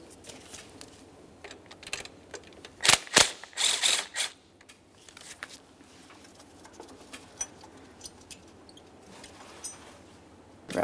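A ratchet loosening an alternator mounting bolt behind a coolant hose on a 2004-2008 Ford F-150 5.4L V8. Quiet clicking ratchet strokes come in a short burst of louder clacks midway, close and without talking.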